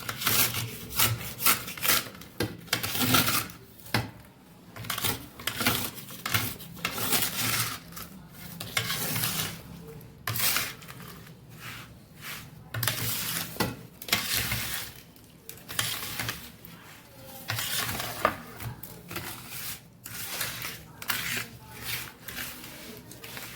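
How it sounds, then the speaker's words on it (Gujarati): Sugar and lemon mixture being stirred and scraped around a plate by hand, a continuous gritty rubbing and scraping in uneven strokes for the whole stretch, close and fairly quiet with no talk. "તો હવે આપણે આને પાછું એવી રીતે હલાવી લેવાનું છે, બધું મિક્સ કરીને પાછું।"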